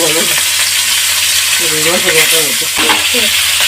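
Pieces of bhola fish frying in a pan for a Bengali-style fish curry, a loud, dense close-up sizzle and crackle running throughout, with some tonal warbling sounds in the background.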